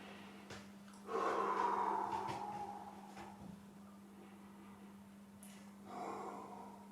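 Faint breathing during a shoulder mobility floor exercise, with a soft sharp inhale and a longer audible exhale, quiet and close over a steady low electrical hum.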